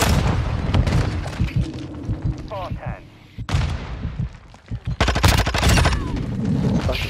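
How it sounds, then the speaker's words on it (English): Gunfire and grenade explosions in the Call of Duty: Modern Warfare II multiplayer game, with dense bursts of shots and booms throughout and a brief quieter gap midway. "He's throwing nades in."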